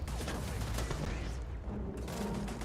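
Dense gunfire from the Starfield video game pours in at the player, a loud, continuous barrage of rapid shots and crackling bursts that barely lets up across the short stretch.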